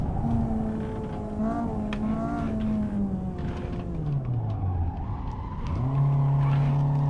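Racing car engine in a driving game pulling hard out of a corner on the inside line, a steady loud drone that dips in pitch and then climbs sharply again as the throttle opens, with no talk over it.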